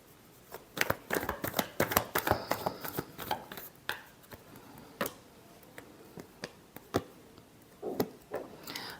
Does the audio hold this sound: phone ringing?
no